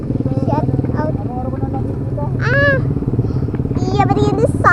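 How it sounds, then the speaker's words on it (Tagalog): Motorcycle engines idle and rumble steadily by a main road in a San Fernando, Pampanga suburb, a loud, close, continuous low throb that runs beneath someone talking throughout. "Mga motor dito sa gilid. Mga motor yan."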